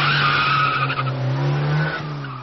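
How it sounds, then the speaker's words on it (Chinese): A motorcycle skids in a night crash, heard as a loud, sustained tire screech with wavering pitch, close and alone for a few seconds. "一辆摩托车从夜幕中直冲了过来，将他们三个人一下子撞飞了"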